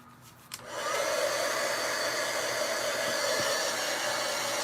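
A hair dryer switches on and runs at a steady, loud, close whirring blow, used to dry a pumpkin-themed ghost craft project, with no talking.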